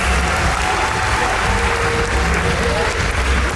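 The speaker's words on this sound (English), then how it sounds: "How about a round of applause for our incredible team of trainers?" An audience at a dolphin presentation show at Georgia Aquarium in Atlanta applauds the trainers, steady crowd clapping filling a large space with voices and cheering mixed in throughout.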